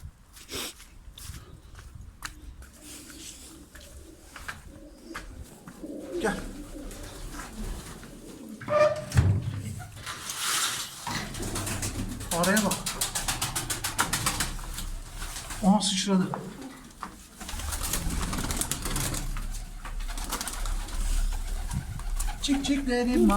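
Pigeons coo intermittently close by amid shuffling and flapping movement as they are released from their loft, with a person talking now and then.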